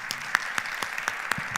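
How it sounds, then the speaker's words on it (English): A small convocation crowd at Snow College gives a faint, sparse round of applause, a handful of separate claps spaced about a quarter second apart over a soft background hiss. "Let's give him one more round of applause."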